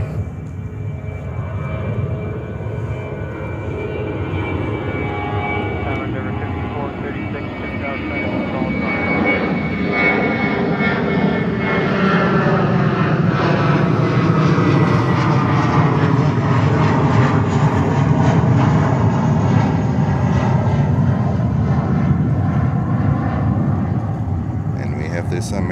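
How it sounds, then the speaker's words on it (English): An American Airlines jet coming in at JFK in New York, its engine roar swelling from a moderate rumble to a loud, sustained peak around the middle and holding steady, with faint radio voices underneath. "American Airlines 319 coming in."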